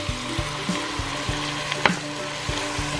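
Onions sizzle in a pan as fish sauce (patis) goes in for arroz caldo, a steady frying hiss with regular scraping stir strokes and one sharp clink near the middle.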